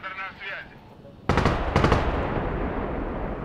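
Automatic gunfire from the video game Broken Arrow bursts in loudly after a brief quiet stretch with a voice, then rapid shots and rumbling battle noise carry on to the end.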